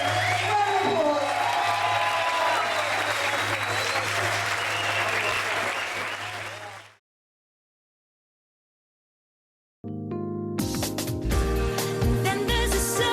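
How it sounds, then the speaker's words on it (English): A crowd applauds steadily and loudly for about seven seconds at a celebration of EB Games' first ten years, then falls silent before music starts. "a big round of applause, please, to Trent Weeks"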